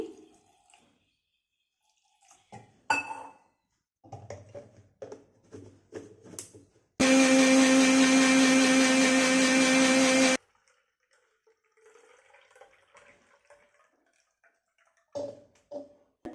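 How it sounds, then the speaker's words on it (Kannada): A kitchen mixer grinding chopped ginger with a little water runs loud and steady for about three and a half seconds, framed by quieter clinks, taps and handling sounds before and after. "ಅದು ಮಿಕ್ಸ್ ಆಗೋ ತರಕ ತನಕ ಗ್ರೈಂಡ್ ಮಾಡ್ಕೋಬೇಕು"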